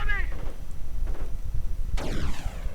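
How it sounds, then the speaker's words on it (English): Gunfire and sharp rifle-like cracks from a World War II strategy video game battle, two or three distinct reports over a rumbling backdrop, with a voice talking over them. "Grenadiers advancing, getting sniped."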